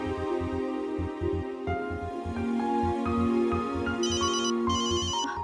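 Phone ringtone ringing, a melodic electronic tune over a pulsing repeated beat, loud and close with a bright chiming section near the end, no speech.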